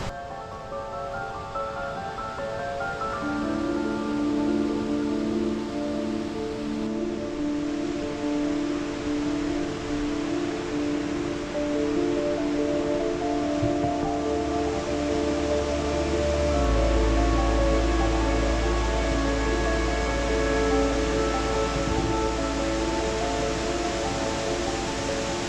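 Steady broadband rush of a waterfall near a bridge in Hallstatt fills the whole stretch, a constant close roar with faint tonal hums drifting over it and no talking.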